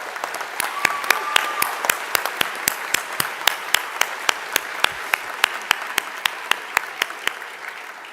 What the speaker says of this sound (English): Can we get a round of applause again,